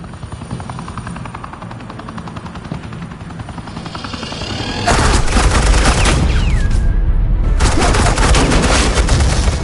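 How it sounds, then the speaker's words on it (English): Suppressing gunfire in Batman: The Enemy Within, loud sustained rattling bursts kicking in midway over a continuous helicopter-like rotor drone, with a brief whistling whine. "suppressing fire."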